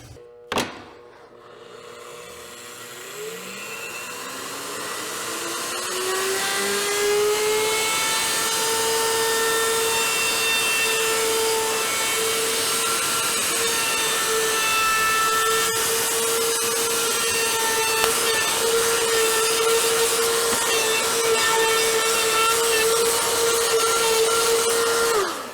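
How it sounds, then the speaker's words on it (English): A router table spinning up with a round-over bit, its rising whine settling into a steady loud tone as the bit rounds the edge of a wooden board, running continuously with no talk. "once I install that on the router table, we'll be able to get a nice round edge on our entire board."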